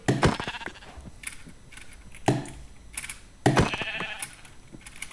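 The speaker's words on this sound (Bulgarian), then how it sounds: "Овце!" Minecraft sheep bleat three times in distinct, fairly loud calls spaced a second or so apart, with quieter game sounds between them.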